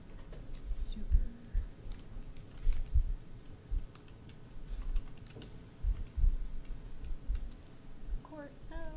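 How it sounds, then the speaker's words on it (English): Someone types on a computer keyboard during a planning commission meeting: quiet, irregular key clicks in short bursts in a large room, with soft murmured talk and rustling in the background. "It's hard typing when the whole room is watching."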